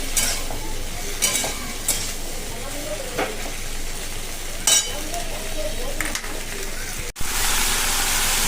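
Okra is stir-fried with turmeric in a pan, giving a close, continuous sizzle broken by the scrape of a spatula stirring several times, with a sharp clatter near the end and brief talk over it.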